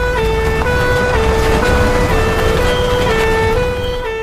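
A loud fire engine siren in a Malay cartoon wails steadily with an alternating two-tone pattern as the truck arrives, filling the scene with no speech.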